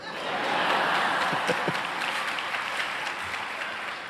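A crowd at a university keynote breaks into steady applause mixed with a few chuckles and scattered voices, fairly loud and continuous throughout.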